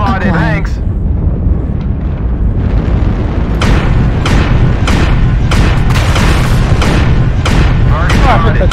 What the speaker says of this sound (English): Target spotted. That's a javelin.